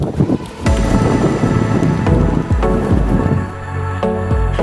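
Wind gusts across an open golf course, roaring and buffeting the microphone steadily throughout, with a few dull low thumps mixed in.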